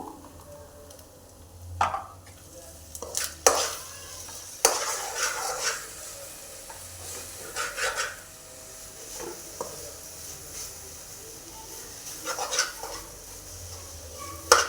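Coconut laddu mixture with ghee and cardamom powder being stirred in a pan, a spoon scraping and clinking against the metal in irregular strokes over a soft sizzle, with no talking.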